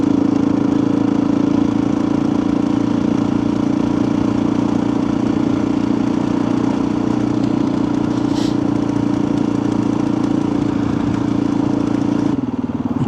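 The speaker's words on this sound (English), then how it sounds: "somebody else on a motorbike" A motorcycle engine runs steadily at close range with a low, throbbing hum and slight clatter, continuous throughout with no voices.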